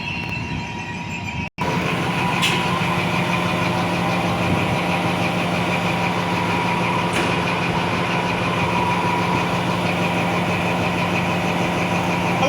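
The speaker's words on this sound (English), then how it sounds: "I love the sound of those Paxton diesels." An XPT passenger train with Paxman diesel engines departs Broadmeadow, its steady, loud engine drone running throughout, with a faint click near the start and wind and rain in the background.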